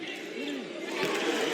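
Basketball arena crowd at a Fever vs Mystics game roaring and cheering as one continuous wash of noise, with voices rising and shouting within it.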